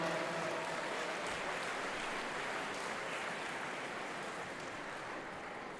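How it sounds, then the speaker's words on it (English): Steady applause from a crowd at a kickboxing world championships opening ceremony, dense and continuous, holding at an even level throughout with no talking over it. "I think they should get a round of applause for those efforts"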